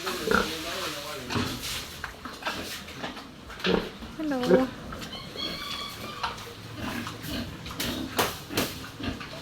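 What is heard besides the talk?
pigs oinking, a sow and piglets on a farm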